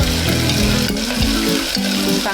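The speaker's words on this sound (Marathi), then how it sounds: "कांदा टाकूया, हा बारीक चिरून घेतला आहे तो। कांदा चांगला व्यवस्थित ढवळून घेऊया" Finely chopped onion sizzling in hot oil with curry leaves in a pan, with steady loud frying and regular scraping strokes as it is stirred, close up and continuous, no talking.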